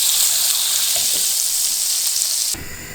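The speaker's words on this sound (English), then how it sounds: "I'm gonna pan fry this. Olive oil in a hot pan. Butter as well." Olive oil and butter sizzle steadily in a hot frying pan, a loud, continuous hiss that drops abruptly near the end.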